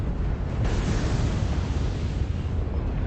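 A mech blown apart in the video game MechWarrior Online, a loud, dense rumbling explosion that roars continuously through the whole stretch.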